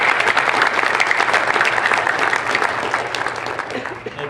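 A lecture audience gives the speakers a round of applause, loud, close and sustained clapping throughout with crowd noise mixed in, tapering slightly toward the end.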